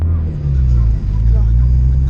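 A car engine idles loudly at a car meet, a steady low rumble holding throughout with a brief dip near the middle, close to the microphone.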